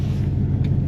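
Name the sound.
old Chevy car engine rumbling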